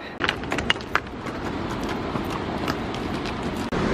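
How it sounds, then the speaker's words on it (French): A horse clip-clops past on a high-altitude mountain trail on the Salkantay trek, a few sharp hoof strikes close by at first and then fading into steady outdoor rumble and wind. "il y a un cheval qui est passé, ça m'a fait super peur"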